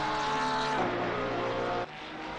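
A Porsche race car in a racing video game at Imola, its engine droning steady and loud with a shift in pitch partway through and a sudden drop near the end, no voices over it.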